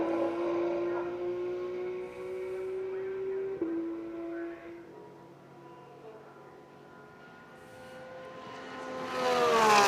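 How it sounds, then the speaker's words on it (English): A flat-six GT race car at Watkins Glen, in a Blancpain GT World Challenge America race, screams past with a sustained engine whine that drops in pitch, fades, then rises again as another car approaches. "Love that flat six sound."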